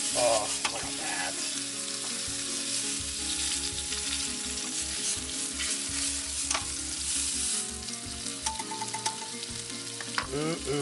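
Food sizzles and fries steadily in a pan over a campsite cooking setup, with scraping and clanking as a spatula flips it, loud and close throughout with no talking.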